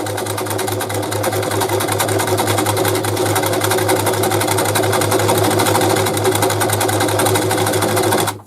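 Brother Boutique 30 sewing machine stitching a decorative tulip pattern, a steady, loud mechanical whirr with a constant motor hum running unbroken for the full length.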